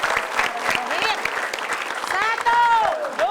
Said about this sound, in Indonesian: Tepuk tangan sekali lagi untuk Mbak Yanti.